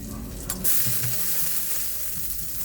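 Garlic and ginger sautéing in a pan with shrimp paste, a soft continuous sizzle with light stirring scrapes and a brief clatter early on.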